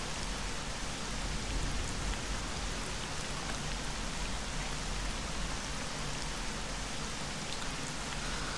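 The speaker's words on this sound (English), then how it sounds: "this is a pretty sad level with all the rain" Steady rain pours across a bleak level of the video game S.T.A.L.K.E.R. with the New Arsenal mod, a dense, even hiss of drops on surfaces that never lets up, with no voices.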